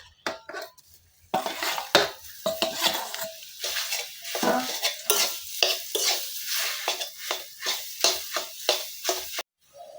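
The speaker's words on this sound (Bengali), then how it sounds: "আমি এখন কাঁচা কলার ধোকার জন্য অল্পটুকু এখানে তেলের মধ্যে ভেজে নিব।" Pieces of raw green banana sizzle in a little hot oil while a spatula stirs and scrapes the pan in quick repeated strokes, steady frying hiss under rhythmic clatter, close and alone without voices.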